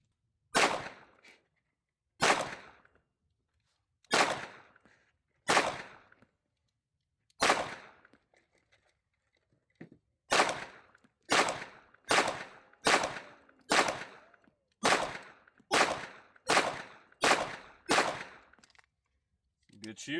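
Pistol shots fired at targets with a Kimber 2K11 and a SIG P211, about sixteen sharp, loud cracks, widely spaced at first and then coming in a quicker steady string, with quiet gaps between.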